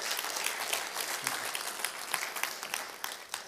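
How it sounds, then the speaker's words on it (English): A conference audience at an annual audit committee event claps in sustained applause, a thick continuous patter of many hands with scattered sharper claps standing out, steady throughout with no voices. "let's give all of us a big round of applause"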